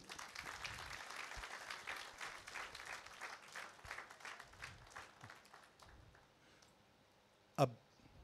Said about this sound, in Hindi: पर सब लिए तालियां बजा दो